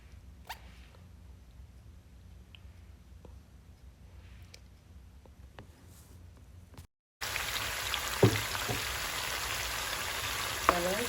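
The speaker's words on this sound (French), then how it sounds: "je fais revenir les oignons pour le poisson" Onions sautéing in a pan for Nile perch, a steady close sizzle and crackle that starts abruptly after a quiet stretch.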